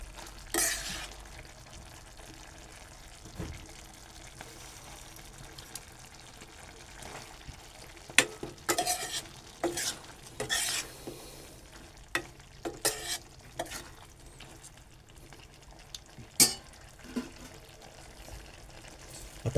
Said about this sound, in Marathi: पण ढवळून घेऊया.